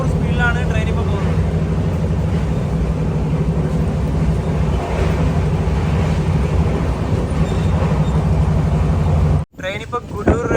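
Interior of the Grand Trunk Express running at 130 km/h in sleeper class, a loud, steady rumbling roar of wheels and rails that drops out abruptly near the end, with talk over it.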